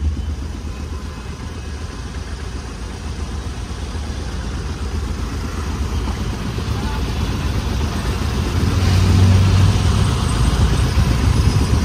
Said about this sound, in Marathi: एवढं जाम ट्रॅफिक जाम आहे.